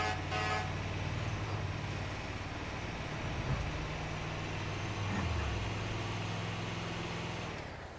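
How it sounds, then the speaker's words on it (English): A low, sustained ambulance horn in the video game GTA 5 blares steadily for several seconds with a slight pitch shift midway, fading out at the end. "And that's the horn for the ambulance that came with it."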